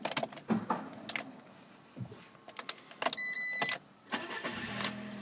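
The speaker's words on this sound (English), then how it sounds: "no problem starting the car, starts first time" A black Fiat 500 Lounge petrol automatic starts up on the first try: a few clicks and rattles of keys, then the engine catches and settles into a steady idle nearby.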